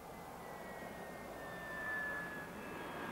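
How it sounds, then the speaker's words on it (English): A Harrier jet engine roars steadily at an RAF airfield in 1974, with a rising whine as the aircraft lands, moderately loud and at some distance, with no voices. "And here's the Harrier already landed."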